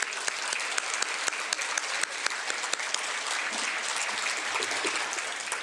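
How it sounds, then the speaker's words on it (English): Sustained audience applause at a school's rising sophomore recognition ceremony, a dense, steady wash of many hands clapping throughout, fairly loud and even with no speech over it. "Let's give him one more round of applause."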